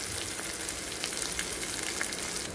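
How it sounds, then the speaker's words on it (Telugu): Onions and garlic fry in a pan with a steady, close hiss of sizzling oil throughout. "సో ఆనియన్స్ ఫ్రై అయ్యాయండి."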